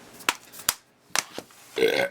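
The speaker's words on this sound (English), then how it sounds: "There's some Whataburger burps for you" Several short burps after eating Whataburger, close and fairly loud, coming in quick separate bursts with a longer, drawn-out one at the end.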